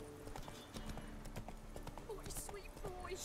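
Geralt's horse Roach in The Witcher 3 trots with a steady clip-clop of hooves, a close rhythmic patter under voices that speak over the footfalls.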